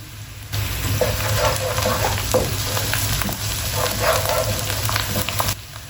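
Water and green onion hit a hot frying pan, setting off a loud, steady sizzle with faint stirring scrapes, close and continuous for several seconds before cutting off.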